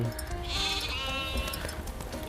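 Sheep on a grassland hill farm with a flock of about a hundred, one clear wavering bleat rising over steady outdoor background noise, fairly close and moderately loud.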